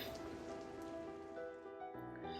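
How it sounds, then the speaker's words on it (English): Steady rain falls across open grassland plains, a continuous wash of drops with some musical tones layered over it and no voices. "the rain falling on the plains of our planet, it delivers a little hope to wildlife."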